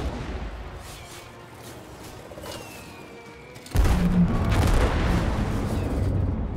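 Gunfire and booms from shooting in the co-op video game It Takes Two, with a sudden loud burst about halfway through that stays dense with rumbling blasts to the end.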